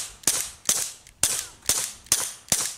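Six sharp, cracking reports from a Taurus TX22 pistol firing CCI Quiet Semi-Auto .22 ammunition, evenly spaced about half a second apart, close and alone with no talking.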